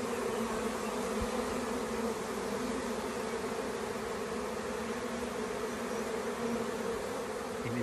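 A dense, continuous buzzing of many honeybees in flight around a swarm, loud and close, droning steadily throughout with no voices.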